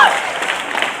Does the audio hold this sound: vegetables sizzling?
no